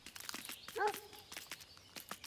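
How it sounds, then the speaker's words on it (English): Dog in the survival game Grounded 2: a short whining yelp or bark rises briefly mid-clip over soft scattered footsteps and light rustling, faint and sparse throughout. "There's a dog loose."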